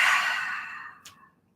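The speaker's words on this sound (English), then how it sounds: "Be sure you're breathing." A single long, loud exhale during a barre and Pilates workout, airy and close, fading out over about a second and followed by a short quick breath, with no talking.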